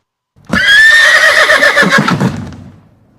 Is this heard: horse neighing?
yes